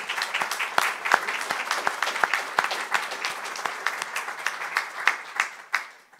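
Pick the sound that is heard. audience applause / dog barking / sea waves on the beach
audience applause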